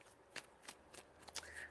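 Tarot cards are shuffled by hand in a quiet room, with several short riffling bursts and soft flicks spaced through a brief moment, fairly faint and close.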